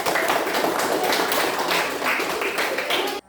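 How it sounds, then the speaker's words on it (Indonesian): A classroom of students applauding a student group during a practice teaching session, dense steady clapping close by and fairly loud for about three seconds, then stopping abruptly. "Beri aplaus untuk."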